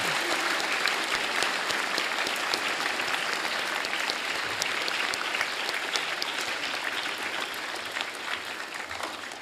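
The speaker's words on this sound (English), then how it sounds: "let's give a round of applause to all of our musicians" Steady audience applause for musicians at an honor book signing ceremony, a dense sustained patter of many clapping hands indoors, fairly close, slowly tapering toward the end.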